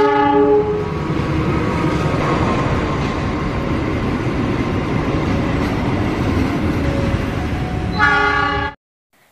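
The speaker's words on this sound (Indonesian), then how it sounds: "kereta api." A train rumbles past loudly with a continuous clattering roar, its horn blaring in sustained tones at the start and again near the end before the sound cuts off abruptly.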